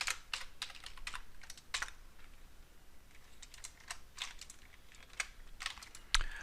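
Quiet, uneven keystrokes tap on a computer keyboard while someone codes a Simpsons memory game, clicks arriving in short bursts with pauses between them and a sharper strike near the end, with no voices.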